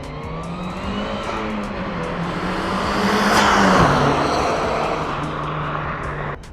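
A Honda Civic with PPG gears in an L15-swapped transmission drives past, its engine note rising to a loud peak mid-clip and then easing off, with a steady drone throughout and no talk.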